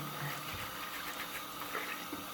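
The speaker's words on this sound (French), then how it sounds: "je rince ma brosse au robinet" A hairbrush is rinsed under a running tap, giving a steady, soft hiss of flowing water that stays even throughout, fairly quiet and close, with no talking.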